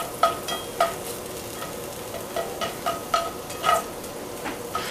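Garlic sautéing in a pan for ramen, with a low sizzle under a series of scattered scrapes and taps from stirring, close up and moderately loud, with no talking.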